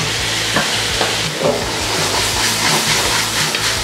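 Onion and tomato sautéing in a hot pan for Filipino bopis, a loud continuous sizzle with rhythmic stirring scrapes, close up and without talk.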